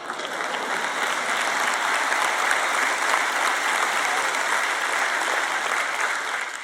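Steady, dense audience applause at a Joyce Meyer sermon fills the hall without a break, loud and even from start to finish.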